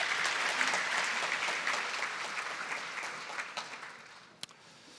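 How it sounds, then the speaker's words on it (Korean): Applause from a conference audience at a data center summit after a live demo, sustained and fairly distant, gradually tapering off over about five seconds. "고생하신 장혜청 과장님께 박수 부탁드립니다."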